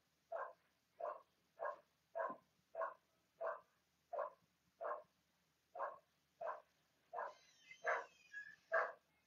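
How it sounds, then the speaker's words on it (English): A dog barks repeatedly at a steady rhythm, about a dozen muffled barks from a little distance, growing more excited toward the end. "my dog is yelling and barking"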